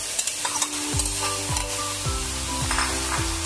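Chicken keema and cabbage are stirred together in a hot pan, a spoon scraping in repeated strokes about every half second over a steady close sizzle.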